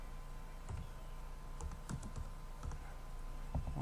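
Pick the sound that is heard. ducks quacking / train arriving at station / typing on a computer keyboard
typing on a computer keyboard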